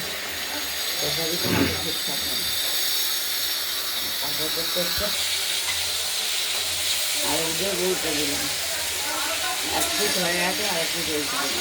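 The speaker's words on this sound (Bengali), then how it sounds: "মাছগুলো ভাজা হচ্ছে।" Snakehead (shol) fish frying in a kadai gives a steady, loud hiss through the whole stretch, with a person talking over it at intervals.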